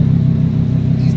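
Deep, steady engine rumble from a wide-body Lamborghini Huracan, loud and near, holding a low pulsing drone for a brief moment with no voices over it.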